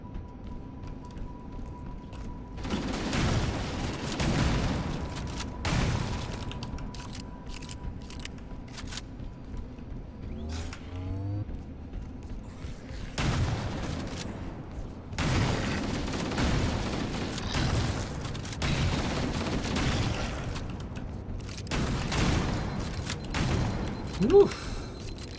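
Assault rifle fire in Halo CE, heard as rapid bursts that come and go in several stretches, with a voice talking over much of the gunfire.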